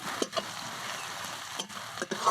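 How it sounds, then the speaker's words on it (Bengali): Crushed garlic and onion sizzling in a pan for a jackfruit seed mash, with a spatula scraping through them in a few distinct strokes over a continuous close frying hiss. "রসুনের কাঁচা গন্ধ যাওয়া পর্যন্ত আমি কিন্তু এটা নাড়তে থাকবো"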